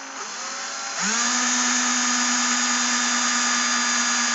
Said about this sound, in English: I'm just going to drill a bunch of holes very carefully